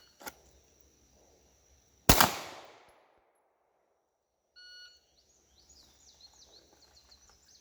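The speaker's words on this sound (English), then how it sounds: "So that was a precision shot, 254 at that distance." A single sharp, loud pistol shot aimed through a red dot sight at a distant target, preceded by a faint click and followed by outdoor quiet with faint birdsong.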